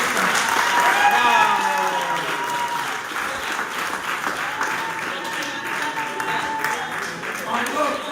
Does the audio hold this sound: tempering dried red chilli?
no